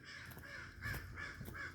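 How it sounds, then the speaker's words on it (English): Crows caw in a forest, harsh repeated calls spaced in a loose rhythm, a few voices overlapping at a moderate distance against quiet woodland air. "those are crows flying over there"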